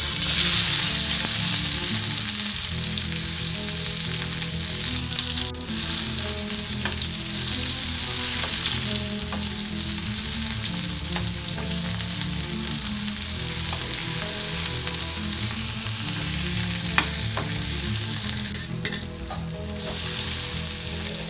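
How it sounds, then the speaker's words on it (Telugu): Tomatoes fry in oil that was first used for frying dried red chilies while a bottle gourd chutney is made, producing a loud, continuous close-up sizzle with occasional stirring scrapes and no talk. "ఎండుమిరపకాయలు ఫ్రై చేసుకున్న ఇదే ఆయిల్లో టమాటాలు వేసుకోవాలి"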